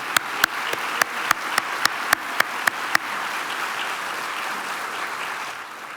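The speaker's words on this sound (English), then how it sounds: "let us extend a resounding round of applause to our STEAM event partners" A string of sharp, evenly spaced claps, then a steady wash of crowd applause that slowly fades, at a city State of the City event.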